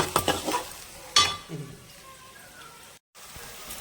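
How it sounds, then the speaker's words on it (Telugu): Chopped onions and green chillies fry in a pan for a broad bean curry. A spoon clatters and scrapes as they are stirred over a soft sizzle, with a brief voice and a short gap of silence near the end. "ఉల్లిపాయలు పచ్చిమిరకాయలు చక్కగా వేగినాయండి"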